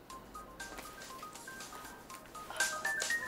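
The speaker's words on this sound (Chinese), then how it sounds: "不好意思，接个电话。" A phone tone sounds in an office-drama scene as a call comes in, a few faint short electronic beeps and tones over a quiet room hum, growing slightly louder near the end.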